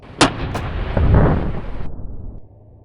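Artillery guns at a coastal fort fire in a sharp close blast, a second crack follows, and a deep rolling boom spreads out and fades over about two seconds.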